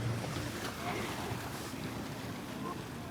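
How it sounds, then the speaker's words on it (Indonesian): Morning ambience at Bebe Beach on the west coast of Java: steady wind and surf roar close to the microphone, a continuous broad wash without clear breaks. "Ini suasana ketika pagi di Pantai Bebe kemarin."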